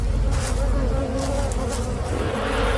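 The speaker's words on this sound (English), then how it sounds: "This male approaches a beehive. Bees sting to defend the hive" Bees swarm and buzz loudly around a wild beehive under attack by a honey badger, a dense continuous drone close by that fills the whole stretch without pause.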